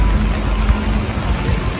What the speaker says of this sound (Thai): ฝนตกจะมีลมเยอะมากเลย